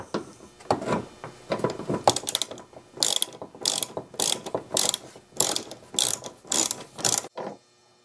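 Hand ratchet threading a bolt while removing the front bumper of a 2008 Cadillac CTS, fast bursts of close, crisp pawl clicks in an uneven rhythm that stop abruptly near the end.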